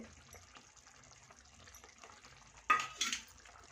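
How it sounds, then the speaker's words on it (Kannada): Eggs are stirred into a roasted dhaba-style egg masala in a pan, with a faint sizzle underneath and two short, sharper scraping strokes near the end. "ನಾವು ಮೊಟ್ಟೆನ ಇದಕ್ಕೆಲ್ಲ ಸೇರಿಸ್ಕೊತಾ ಇದ್ದೀನಿ"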